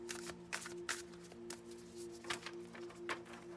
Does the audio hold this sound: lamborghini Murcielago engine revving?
no